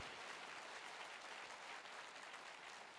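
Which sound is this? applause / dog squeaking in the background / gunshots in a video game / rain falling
applause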